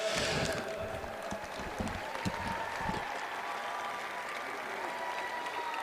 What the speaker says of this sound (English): Big round of applause for our runners up.